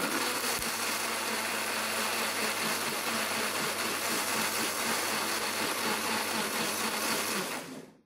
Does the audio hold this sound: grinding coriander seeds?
yes